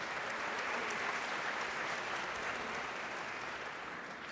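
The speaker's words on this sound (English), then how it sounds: "Still willing to clap practically anything." Dense, steady audience applause at a debate fills the whole stretch, a loud continuous wash of many hands clapping with no pauses or talk on top.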